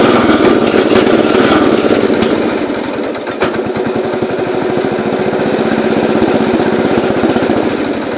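A 1970 all-white Gravely 408 tractor engine runs loud and close, settling into a rough, steadily pulsing idle.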